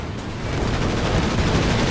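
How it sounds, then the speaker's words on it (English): A strafing run in the Company of Heroes 2 video game produces a dense, continuous roar of rapid gunfire. It stays loud and unbroken for the full two seconds. "Here comes the strafing support."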